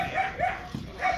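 A Cane Corso gives a few short barks and whimpering yips during dog training at a club, close by and in quick succession, over a brief stretch of background noise.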